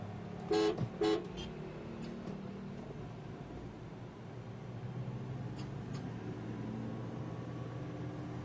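Morning traffic in Bali crawls bumper to bumper, with two quick car horn toots near the start, a few fainter honks later, and a steady rumble of engines under it all.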